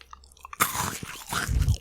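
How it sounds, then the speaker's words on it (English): A Malteser chocolate is bitten and crunched close to the microphone, a sudden sharp crack followed by a second of crisp chewing. "That was crunchy though, and I can tell you exactly what that is. It's a Malteser, isn't it?"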